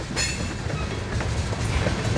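Loaded freight cars of a Union Pacific detour train rumbling by on the Spine Line, with low steady rolling noise and repeated clickety-clack from wheels on rail joints, fairly close.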